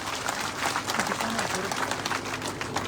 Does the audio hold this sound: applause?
yes